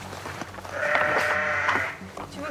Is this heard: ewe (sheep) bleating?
yes